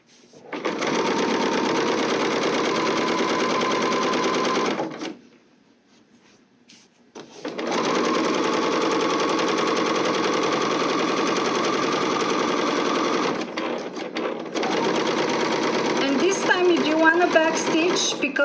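A sewing machine runs steady stitching runs along a quarter-inch fabric seam on a project bag, in three long bursts separated by brief pauses, loud and close, ending with a short back-stitch.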